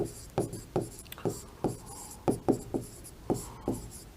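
Chalk or marker strokes on a board during a Hindi poetry lesson come as short scratchy taps and rubs in an uneven rhythm, close and fairly quiet, with no talk over them.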